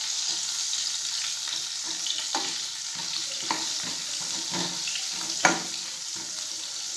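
Stuffed baby onions sautéing in a pan give a steady, soft sizzle, with occasional light clinks and stirring scrapes over the continuous frying hiss.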